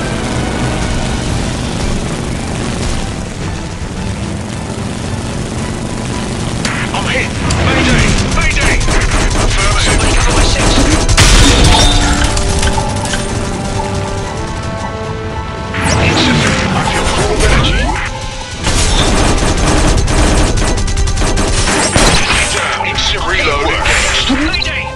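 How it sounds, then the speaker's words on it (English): Air combat in the War Wings game, with a Shiden-Kai fighter plane under heavy fire: a constant loud engine roar layered with crashing, rattling gunfire impacts that continue throughout. "Taking heavy fire."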